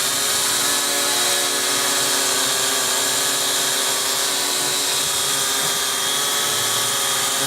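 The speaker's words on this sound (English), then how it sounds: "we're just testing out the drone with the last battery I have that's charged for today" A small quadcopter drone flies close by outdoors, its propellers giving a loud, steady whining buzz that holds without a break throughout.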